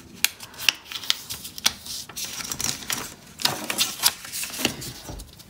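Paper is folded in half again while a paper mouse finger puppet is being made. Close, crisp creases and crackles come in a string of short, sharp snaps and rustles, with no talk.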